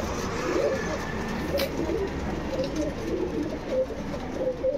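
Soft cooing of a male pigeon from an old-line breed, repeated low coos over a steady background hum, moderately near, with no talk.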